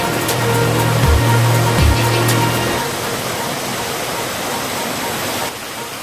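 Bolinao Falls waterfall pouring near its cave, a loud continuous broadband rush, with a low engine-like hum briefly mixed in at the start.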